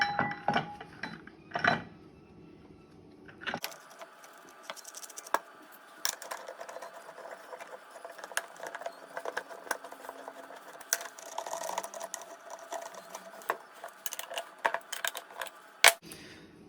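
A Brembo brake caliper for 355x32mm rotors is fitted onto a Nissan 240SX, making quiet, scattered metallic clinks, ticks and taps of parts and tools in a still workshop.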